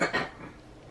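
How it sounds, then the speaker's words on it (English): A person gives two quick coughs at close range, then the sound fades into quiet room noise. "You getting a cough too?"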